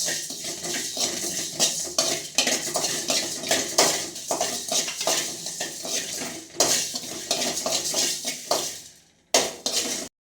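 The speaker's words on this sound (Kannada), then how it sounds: "ಸ್ವಲ್ಪ ಇಷ್ಟು ಹಾಕಿ ಸ್ವಲ್ಪ ಫ್ರೈ ಮಾಡಬೇಕು" Garam masala spices being stirred and fried in a pan for chicken sukka: continuous scraping and clinking of a utensil against the pan over a soft sizzle, close and steady.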